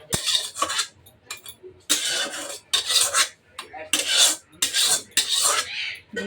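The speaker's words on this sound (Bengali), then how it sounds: "এখন আমি কাঁকড়াটা ঢেলে নেব থালাতে।" Crab curry scraped and poured out of a wok onto a plate, a run of close, rasping metal scrapes in bursts with short pauses between them.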